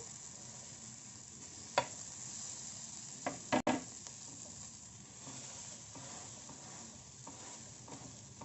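Pav bread and bhaji warming on a hot street-style griddle, a quiet, steady sizzle with a couple of brief scraping and clattering knocks from a spatula partway through.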